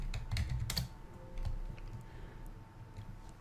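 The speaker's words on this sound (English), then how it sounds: "we're gonna type something obscure" Fingers type on a computer keyboard in a quiet room, with a quick run of faint clicks and taps followed by a few scattered keystrokes.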